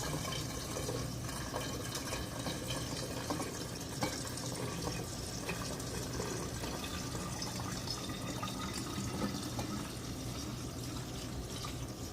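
Liquid is poured into a container while coffee liqueur is made, giving a steady, fairly quiet splashing and filling sound with small drips throughout.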